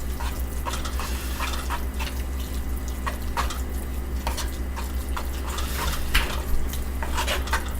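Chocolate and butter are stirred in a pot, a spoon scraping and clinking against the metal in irregular taps over a constant low hum, fairly quiet and close.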